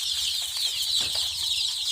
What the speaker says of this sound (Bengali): এখানে আছে 103টা মুরগি।